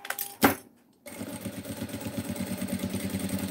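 A sewing machine stitches a fabric corner on a cutlery holder, with a sharp click first, then a brief pause, then a quiet steady rhythmic whir close by.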